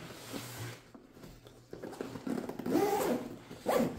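Zipper being closed on a Wolf Attack M4 tactical backpack, a few short close rasping pulls coming in bursts near the end, fairly quiet, with faint handling rustle and room noise.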